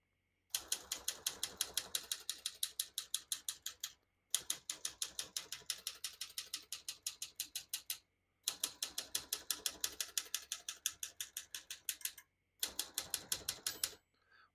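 Rapid, even clacking of a 1958 Smith-Corona Skyriter portable manual typewriter's keys and mechanism in four bursts separated by brief pauses, close and crisp, with no talking.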